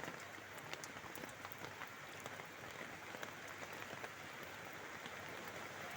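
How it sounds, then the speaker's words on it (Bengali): Rain from a kalbaishakhi storm falling on city streets, a dense steady hiss of drops with scattered sharper patters, even and continuous throughout, with no voices. "শুরু হয়েছে বৃষ্টি,"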